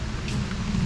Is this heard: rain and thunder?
yes